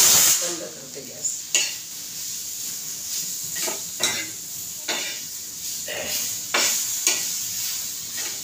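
Tomatoes for misal sautéing in a pan: a steady, close sizzle and hiss broken by about eight sharp spatula scrapes and stirring strokes at an uneven rhythm.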